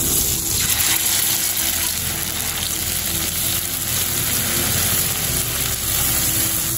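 A steady, loud sizzle of bay leaf and spices tempering in hot oil for egg curry, continuous and close, with no voices.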